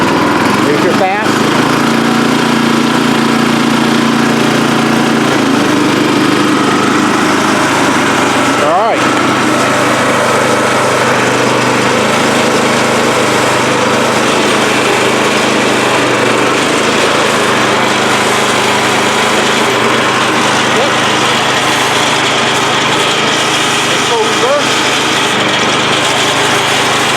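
Yard Mate 212cc gas rear tine tiller engine running at fast throttle, a loud, steady, high-pitched buzzing drone that holds constant throughout, close by, with faint voices now and then underneath.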